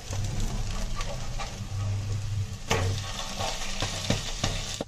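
An egg dish crisping in oil in a pan gives a steady, close sizzle and crackle, with scattered scraping and stirring clicks and no talking.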